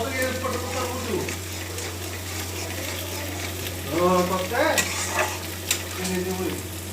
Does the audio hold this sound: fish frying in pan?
yes